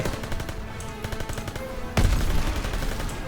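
Gunfire in Call of Duty WWII comes as loud, rapid bursts of repeated shots. A heavier, denser volley breaks out midway and keeps going to the end.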